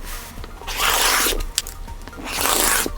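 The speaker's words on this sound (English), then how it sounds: "you just work your way down through the pattern, cutting out all of the width of fabric strips" A rotary blade slices quilting fabric strips on a cutting surface, with two long, loud rasping strokes close by, separated by a short sharp tick and quieter handling sounds.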